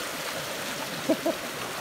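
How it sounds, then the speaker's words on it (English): Creek water flows steadily along a forest trail during a creek fording on an Appalachian Trail thru-hike, a soft continuous rush with two brief splashy bursts near the middle. "Reunited with the Danish duo, and our first creek fording."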